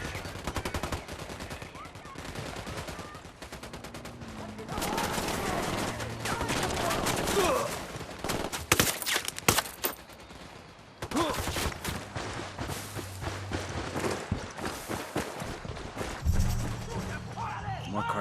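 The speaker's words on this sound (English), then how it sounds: "I'm opening fire." Bursts of automatic and single gunshots from a Ghost Recon Wildlands firefight crack out in rapid, irregular volleys, close and loud, mixed with game sounds and occasional voices talking.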